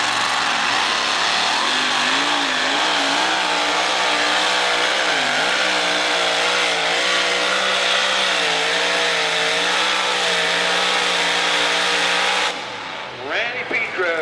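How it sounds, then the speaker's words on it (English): Randy Petro's Challenger pulling truck at a 1991 Greenfield, Ohio truck pull roars loud and steady at sustained high revs with wavering pitch for about twelve seconds, then cuts off abruptly into quieter crowd noise. "Randy Petro with the Challenger full truck"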